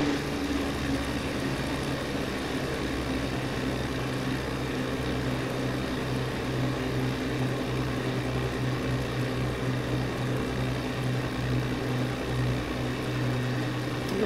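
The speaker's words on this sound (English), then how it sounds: "This plane engine sounds always sounded good." A propeller plane engine drones steadily in Microsoft Flight Simulator 2020 during a scenic flight over Cape Cod Bay toward Provincetown, Massachusetts, a constant low hum with a pulsing tonal buzz that never lets up.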